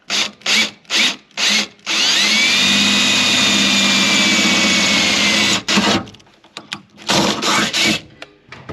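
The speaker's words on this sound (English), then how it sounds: "We just need to drill it out to roughly 9/32 in the door there" A power drill bores into a vintage Porsche 911 Targa car door, running steadily for several seconds, preceded and followed by short bursts of the trigger being pulsed, loud and close.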